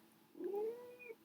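A cat gives a single drawn-out meow that rises and then trails off, quiet and fairly close, alone against a faint background.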